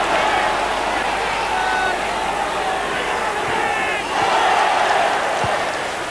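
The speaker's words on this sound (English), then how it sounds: "Crowd warming to Beagrie's arrival" A football crowd at a Bradford City versus Coventry City match cheers and roars steadily as a player comes on, a dense, continuous wash of voices in a stadium with a commentator talking over it.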